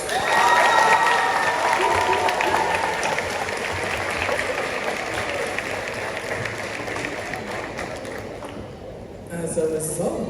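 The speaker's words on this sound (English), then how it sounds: "Round of applause." Audience applauding graduating students at a Victor Dixon High School class of 2025 ceremony in Mandeville, sustained broad clapping with some cheering that holds steady for about nine seconds, then dips briefly before picking up again.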